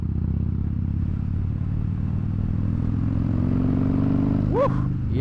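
A Harley-Davidson Dyna Fat Bob (FXDF) motorcycle accelerates with a loud, deep, rumbling V-twin drone heard up close throughout. A brief rising whine and a shout come near the end.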